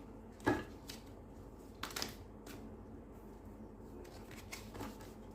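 Large tarot cards are shuffled in a few soft, brief riffling bursts with quiet handling noise between them, close and faint.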